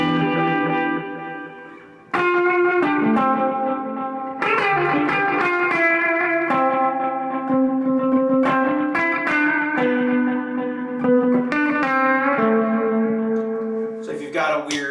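Electric guitar played through a Boss RE-202 Space Echo delay pedal with all four tape heads engaged, sustained notes and chords smeared into dense overlapping repeats, loud and continuous with no talking.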